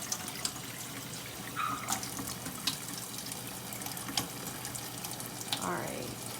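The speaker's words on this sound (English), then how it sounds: "take your asparagus, just kind of rinse that" Cool tap water running into a kitchen sink while asparagus is rinsed under it, a faint steady stream broken by a few splashes and drips, with a person speaking softly over it.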